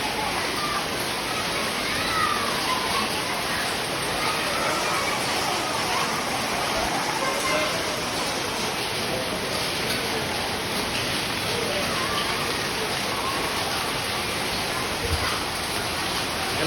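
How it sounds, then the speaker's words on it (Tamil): Hail and rain pour down during an evening hailstorm in Bengaluru, a dense, continuous hiss with faint scattered ticks of ice, steady and fairly loud throughout with no voices. "இன்றைக்கி பெங்களூரில் வந்து பார்த்திங்கன்னா மாலை 6 மணி சுமாராக வந்து பார்த்திங்கன்னா ஆலங்கட்டி மழை பெய்யுது."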